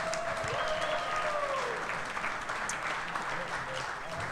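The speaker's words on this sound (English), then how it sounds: "how about a big round of applause for uh, the Outlaw and Bo tonight?" Applause from a live audience at a Packers clubhouse show, a steady wash of clapping through the whole stretch with faint voices underneath.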